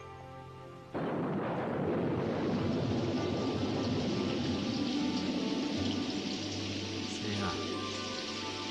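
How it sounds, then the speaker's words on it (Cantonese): A sudden downpour of heavy rain begins after about a second and roars steadily and close from then on, a dense broadband wash that briefly passes under a man's spoken line. "咁大雨不如入翻嚟啦"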